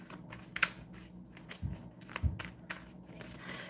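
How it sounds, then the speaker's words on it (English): A tarot deck being shuffled by hand, soft papery riffles and taps in irregular bursts, fairly close and quiet, with no talking. "I'm going to keep"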